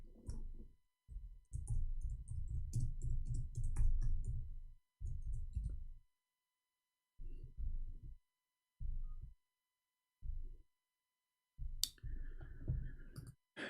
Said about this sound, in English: we are typing in English